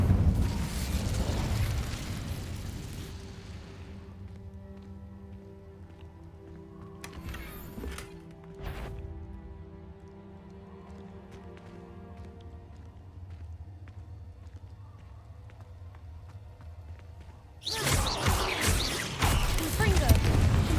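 Incendio fire spell cast in Hogwarts Legacy, a loud, roaring burst at the start that fades into a low rumble, then another sudden fiery blast near the end, with scattered softer sounds between.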